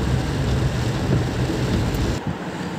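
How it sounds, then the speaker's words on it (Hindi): Rain falls steadily during a drive home through traffic, a dense broadband wash with low rumbling from the vehicle underneath, cutting off briefly near the end. "तो देखिए आप भी बारिश देखिए"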